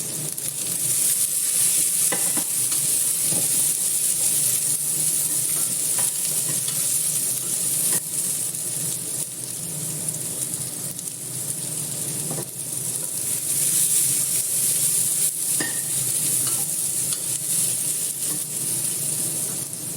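Green chillies sauté in a pan for a Kerala jackfruit curry, giving a steady, close sizzle and hiss throughout, with a spoon stirring against the pan now and then.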